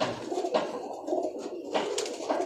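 Pakistani pigeons coo steadily and close by, several low burbling calls overlapping in a continuous murmur with no talking.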